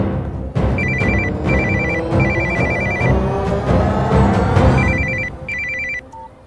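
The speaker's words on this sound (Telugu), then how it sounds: "ఫోన్ ఇక్కడ రింగ్ అవుతుంది ఏంటి?" A mobile phone ringing loudly and close, its electronic ringtone repeating in short bursts over several seconds with no talking.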